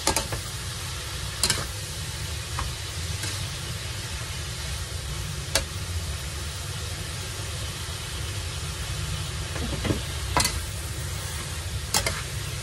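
Vegetables for pancit stir-fry in a wok with a constant low sizzle and occasional sharp clanks of the utensil against the pan, quiet and unbroken by speech.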